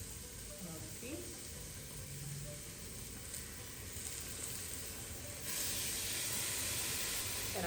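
Pieces of fish sear in a fairly hot pan, a continuous sizzling hiss that swells louder partway through as another piece goes in, with faint handling noises and no talk.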